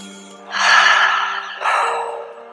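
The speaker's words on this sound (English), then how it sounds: "So deep breath in." A slow, deep inhalation through the mouth, close and audible, followed by a second shorter breath drawn in.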